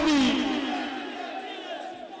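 A crowd at a religious rally in Kamoke, 2019, shouts a slogan in unison: one loud, near collective cry at the start that fades and trails off into murmuring voices.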